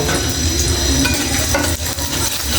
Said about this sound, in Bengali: পরিমাণ মতো তেল দিয়ে দিব। পেঁয়াজগুলো দিয়ে হালকা ভেজে নেব।